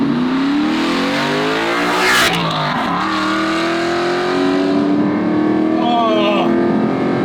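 An Aston Martin V8 Vantage engine revs loudly from inside the car, its pitch sweeping up and falling back in several rising and falling pulls.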